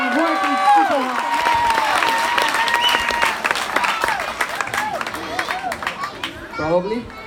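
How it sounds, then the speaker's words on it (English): An audience claps steadily after a talk on health and obesity, the applause dense and close, mixed with cheering and overlapping voices that thin out toward the end. "So please give him a big round of applause."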